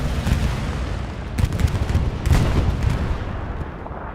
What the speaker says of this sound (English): Bombing run from Greyhounds. Disregard. Syndicate bombing run.